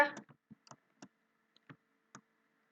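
A computer mouse clicks on the start button in Scratch while building a platformer game, giving a series of short, sharp, quiet clicks spaced irregularly, with a brief voice burst at the very start.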